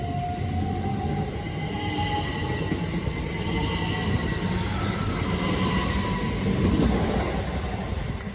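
A Great Western Railway Class 800 train runs through Pangbourne station on a London Paddington to Bristol service, a steady heavy roar of wheels and rail noise with faint high squeals, sustained and fairly near throughout.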